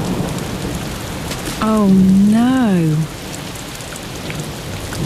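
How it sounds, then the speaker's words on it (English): Steady rain and storm rumble from a sound effect run under a children's rivers programme, a continuous wash throughout, while a voice exclaims briefly over it. "It's a cloud, and it looks like a rain cloud."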